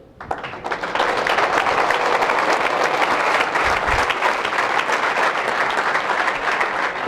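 Loud, sustained applause from a sizable audience fills the room, starting abruptly and continuing steadily without letup.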